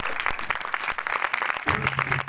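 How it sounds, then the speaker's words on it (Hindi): Church congregation applauding in praise, a continuous crowd of hands clapping loudly with some low background tones entering near the end. "ताली मारो जोर दी खुदा की जलाल।"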